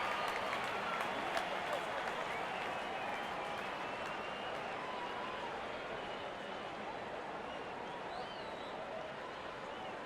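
A stadium cricket crowd, opposing fans included, applauds a boundary four with dense, sustained clapping and crowd roar that holds evenly for ten seconds. A voice may be faintly present beneath it.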